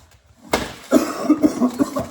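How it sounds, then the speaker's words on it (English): A close, sudden human cough followed by a run of short hacking coughs and throaty bursts, fairly loud against a quiet background. "Sorry about the cough"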